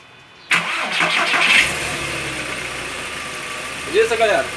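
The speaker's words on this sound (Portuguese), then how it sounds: "Esse pi, clec do corpo de borboleta é normal quando liga e não quando desliga." A VW Golf Mk4 starts up from silence, a sharp throttle body click at the first instant, then a rising crank and steady idle, with a voice briefly heard near the end.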